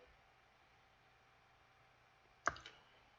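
A single computer mouse click sounds close and crisp against a quiet room hum, followed by a softer second tap a moment later.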